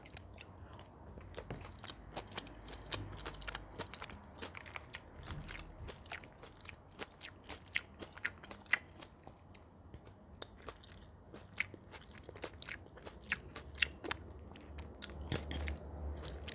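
Close, quiet crunchy bites and chewing of a vegan poke bowl with beets, with many sharp, irregular crunches over a soft mouthy background and no talking.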